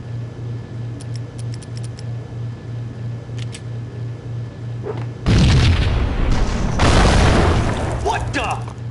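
An explosion in the Max Payne video game erupts as a sudden loud, sustained boom after a steady ticking, pulsing game ambience, with voices heard over the roar.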